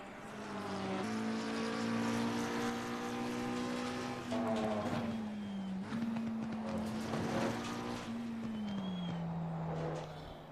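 Porsche and Lamborghini race cars roar in Assetto Corsa Competizione at Misano. A single close engine drones and whines, its pitch climbing and then dropping at several gear shifts.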